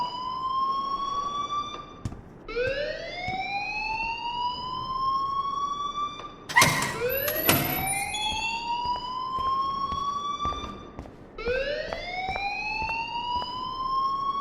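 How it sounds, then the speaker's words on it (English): Repeated rising electronic alarm wail from the video game Life is Strange, sweeping upward in long cycles of about four seconds, loud and continuous, with a brief burst of clatter midway. "please turn off that alarm since that's your job."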